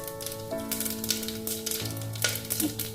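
Cinnamon, cloves, fennel and coriander powder sizzling in hot oil for a duck gravy, a soft steady fry with a few light stirring clicks under sustained musical tones.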